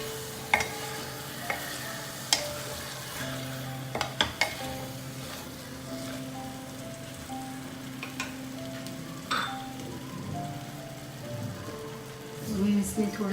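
Fried vegetables being mixed into undhiyu in a pan, quiet intermittent stirring and scraping with a few sharp clinks against a faint background sizzle.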